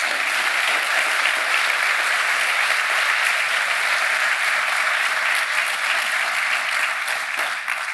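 A conference audience at the State of Latino Entrepreneurship Summit gives sustained applause, a dense and even wash of many hands clapping from start to finish.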